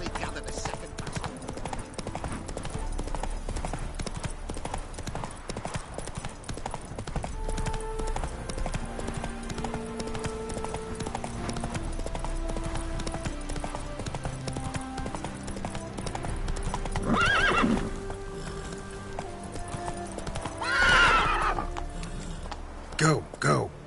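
Hooves of the horse Roach clip-clop steadily in The Witcher III: The Wild Hunt, with game music and occasional voices, and a couple of brief louder whinny-like bursts later on.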